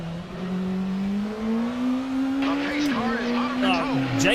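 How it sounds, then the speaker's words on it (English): An LMP2 prototype race car in a racing simulator game holds a steady, rising engine drone that climbs through the gears, then drops on a shift as someone talks over it near the end. "What am I driving? It looks like an LMP2."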